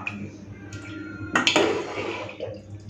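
Mutton curry with potatoes poured from a pot into a bowl in a home kitchen: a soft metallic clink of utensil against pot, then a brief liquid splash and pour, fairly quiet with faint background hum.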